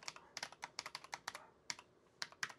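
Computer keyboard keys tapped in quick irregular bursts, about twenty crisp close clicks with short pauses between groups, quiet and isolated with no voices, as login details are entered.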